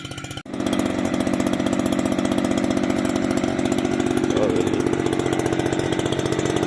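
A small petrol engine on a crop sprayer starts abruptly and settles into a loud, steady buzzing run close by, idling continuously.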